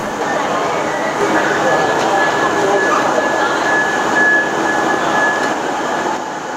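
A passenger train on a railway trip out of Hamilton rumbles steadily with broadband noise and a faint high wheel squeal throughout, while people talk nearby.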